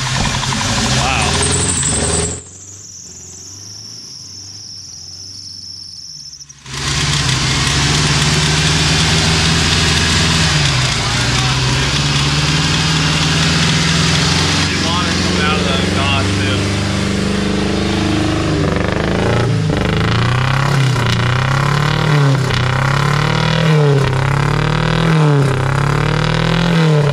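A car engine that has just been driven underwater, its mufflers needing a clean-out, idles loudly and steadily, then revs in a series of rhythmic surges toward the end.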